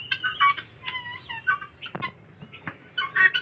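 Chickens and a rooster cluck in a farmyard pen shared with ducks and black fowl, a run of close, fairly loud calls in short bursts with brief pauses between them.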